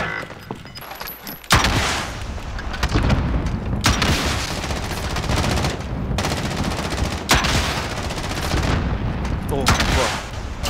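Call of Duty Warzone gunfire rattles in dense, loud automatic bursts after a quieter opening second, continuing almost without pause with a few brief gaps, under occasional voices.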